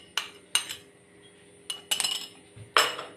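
A spoon scrapes and clinks against a bowl while stirring a sweet filling of powdered sugar and milk cream for a bread malai roll, giving several sharp metallic knocks at uneven intervals with short pauses between them.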